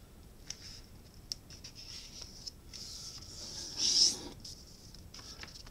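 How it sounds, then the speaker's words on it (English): Paper folded by hand for an origami dinosaur, faint crisp rustles and creases with a few light taps and a brief louder crinkle, close and quiet. "Now flip it over and fold it in half,"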